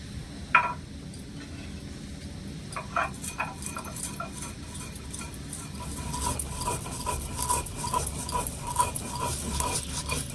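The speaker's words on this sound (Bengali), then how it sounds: "এই গোটা মশলাটা আমি একটু গুঁড়ো করে নেবো" Roasted whole spices are coarsely ground by hand with scraping, rattling and grinding strokes that grow busier and more rhythmic partway through, close and fairly quiet, with no talking.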